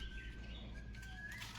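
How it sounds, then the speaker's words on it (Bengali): A pigeon flaps its wings in a short, faint burst of fluttering, heard alone against quiet background noise. "এই পায়রা"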